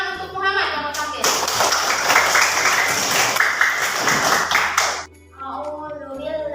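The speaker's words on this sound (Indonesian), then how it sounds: "tepuk tangan untuk Muhammad yang mau tampil" Classroom applause for a student about to perform, with many hands clapping steadily for about four seconds, a short gap, and a voice before and after.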